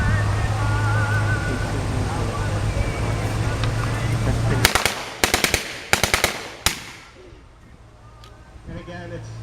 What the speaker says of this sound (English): he's going to fire the MP40